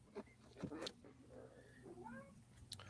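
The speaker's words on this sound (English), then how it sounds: "this freaking cat, man" A house cat meows quietly several times, with drawn-out, wavering calls in the middle and short sharper sounds near the start and end. The cat is faint and somewhat distant over low background noise, and there is no clear talk.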